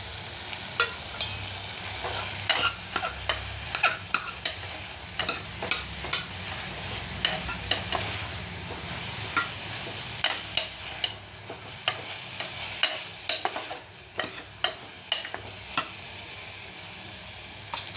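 Softened onions and added tomato fry in oil for a mutton bone kuzhambu, with a continuous sizzle broken by frequent sharp ladle taps and scrapes against the pan, close and unaccompanied by speech.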